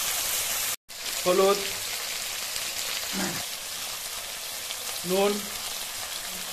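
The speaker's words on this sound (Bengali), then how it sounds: "এবার মাছের ঝোলের জন্য মশলাটা ভেজে নেব।" Spice paste of ginger, cumin, chilli and coriander sizzles steadily in hot oil in a pan for fish curry, a continuous crackling fry while someone talks over it.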